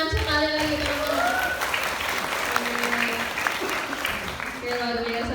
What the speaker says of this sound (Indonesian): Boleh tepuk tangan sekali lagi teman-teman.